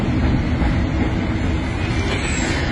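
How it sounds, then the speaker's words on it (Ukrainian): Kyiv's children's railway train arriving, a dense steady rumble of wheels on track with faint clatter, loud and close, no talk. "Ось зараз прибуває потяг."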